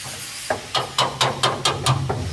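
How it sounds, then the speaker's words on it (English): A hammer drives a chisel through thick undercoat and seam sealer on a 1965 A-code Mustang convertible, giving about eight sharp, close strikes in a steady rhythm with no talk. "we're doing is uh, chiseling off the thick stuff"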